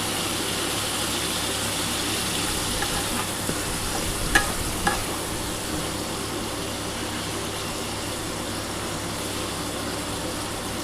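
Shrimp frying lightly in hot oil for a spicy potato-shrimp dish, giving a steady, soft sizzle throughout with a couple of brief clinks partway through and no voices.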